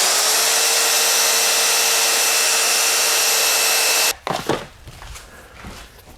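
Sustained loud whirring hum of a lathe spinning a Bradford pear wood bowl under 180-grit sandpaper, cutting off abruptly after about four seconds, followed by quieter clicks and handling noises.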